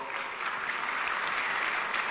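Conference audience at the African Association of Accountants annual meeting gives steady applause honoring the Deputy Minister of Finance, a dense, even wash of many hands clapping throughout at moderate level.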